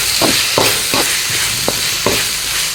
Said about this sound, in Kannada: ಒಂದು ಚಮಚ ಉಪ್ಪು ತಗೊಂಡಿದ್ದೇನೆ ನಾನು ಹಾಕ್ತೇನೆ ಹಾಕ್ಕೊಂಡು ಸ್ವಲ್ಪ ಫ್ರೈ ಮಾಡ್ತೀವಿ